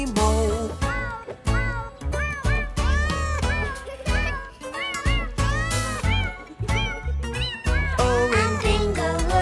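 Meows sung to a melody in a preschool children's farm song about a farmer's cat, with repeated, bright, close meowing phrases over a steady musical backing, likely a voice imitating the cat.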